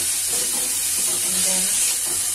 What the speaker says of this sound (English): And now I'll just mix them together. And just a quick saute.